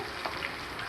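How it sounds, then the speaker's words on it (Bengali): Prawns fry gently in a pan of oil with a soft, continuous sizzle, quiet and steady for a brief moment. "আমি অল্প অল্প করে চিংড়ি মাছগুলো সব ভেজে নেব, বেশি লাল লাল করে ভাজবো না, হালকা করে ভাজবো।"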